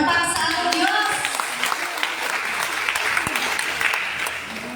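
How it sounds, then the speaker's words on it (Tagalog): A congregation at a national church conference claps together in steady applause, dense and moderately loud, with a speaker's voice heard over it at the start before the clapping carries on alone. "Palakpak sa ating Diyos."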